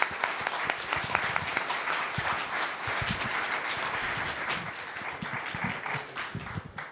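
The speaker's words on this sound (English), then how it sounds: "But one last round of applause." A closing round of applause from an audience after a debate, a dense, steady burst of clapping lasting several seconds with individual sharp claps audible near the mic, fading slightly at the end.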